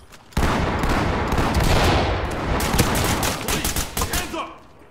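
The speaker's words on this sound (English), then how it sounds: "I've got flashbang. 3, 2, 1, send it." Flashbang grenade detonating inside a building in the tactical shooter Ready or Not: a sudden loud blast followed by a long ringing, crackling wash of noise, with a few sharper bangs near the end.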